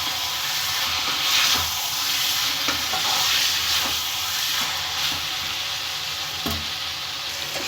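Chicken chitranna rice being stir-fried on a low flame, a steady close sizzle and hiss with scraping stir strokes recurring throughout.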